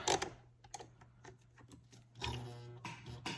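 A sewing machine runs a straight stitch around the edge of a junk journal page decorated with real feathers: scattered light clicks and taps, then two short whirring bursts of stitching over a low steady hum.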